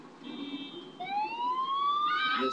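A police motorbike siren in GTA 4 rises in a wailing upward sweep with layered harmonic tones, starting softer and growing louder and steady toward the end.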